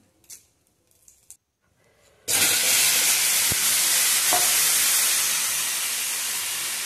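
Elephant foot yam coated in turmeric and salt hits hot oil with a sudden loud hiss that settles into a steady, slowly fading sizzle, after a few quiet handling knocks.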